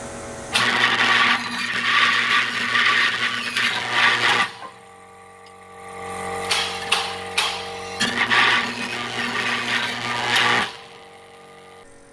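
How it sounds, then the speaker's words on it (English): A 20,000 watt microwave oven zaps tungsten with plasma in a beaker. Two loud, buzzing humming bursts of a few seconds each are split by a quieter gap with brief crackles, and the second burst cuts out abruptly. "For whatever reason, the plasma in this beaker kept escaping confinement, so I couldn't give it a long enough zap."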